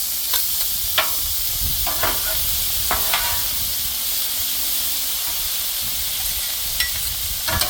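Shrimp lo mein sizzles and hisses steadily on a Blackstone griddle, with a few scraping, clattering spatula tosses breaking through the constant frying noise.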